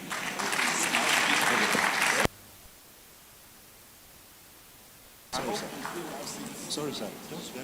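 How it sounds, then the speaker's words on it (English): An audience at a law week event applauds for a panel in loud bursts of clapping, which cut out abruptly into near silence for a few seconds before the clapping resumes. "So a round of applause for the panel,"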